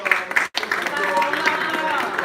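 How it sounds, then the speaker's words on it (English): Applause for the sisters at a religious gathering, a crowd clapping steadily with a brief drop-out early on, with voices mixed in among the claps. "Let's give our sisters a round of applause."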